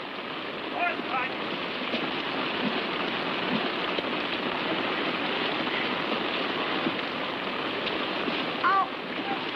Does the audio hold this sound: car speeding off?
no